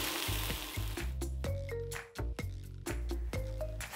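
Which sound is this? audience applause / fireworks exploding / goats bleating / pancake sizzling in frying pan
pancake sizzling in frying pan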